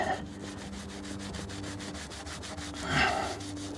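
A small stiff brush scrubs a worn, damaged leather steering wheel in quick, even back-and-forth strokes, a soft close rubbing that swells slightly near the end.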